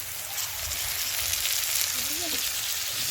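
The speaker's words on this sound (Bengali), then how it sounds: "এবার ভালো করে এটাকে ভেজে নেব।" Ginger, garlic, tomato and green chili frying in hot oil produce a steady, even sizzle, with a faint voice-like sound briefly rising in the background.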